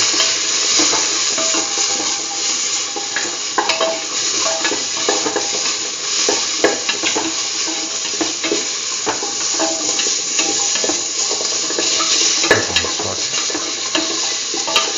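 Tomato pieces frying with a beetroot and mung bean mixture in a pan, a constant loud sizzle with frequent clicks and scrapes as the pieces are stirred, no voices.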